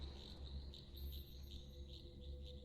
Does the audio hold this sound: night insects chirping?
yes